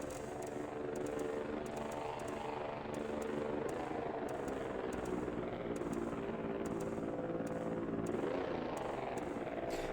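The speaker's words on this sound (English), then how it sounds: "why did the drone sound so weird for minutes?" A video-game drone hovers with a steady buzzing, whirring drone whose pitch rises and falls across several seconds, continuous and moderately close, with faint talk beneath it.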